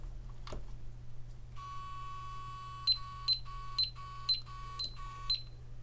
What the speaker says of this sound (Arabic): التكات اللي انتوا سامعينها دي يا جماعه ان هو بيبدا ينزل ويطلع، بيحاول يظبط نفسه على حجم الموبايل